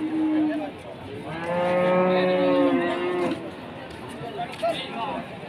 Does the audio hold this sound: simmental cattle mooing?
yes